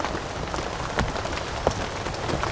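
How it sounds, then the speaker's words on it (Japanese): Rain falls steadily on a snowy campsite in the Doshi forest, a close, continuous patter of drops with a few sharper individual hits standing out, no voices. "お願いだから雨止んで、せっかくのこの雪景色が台無しだ"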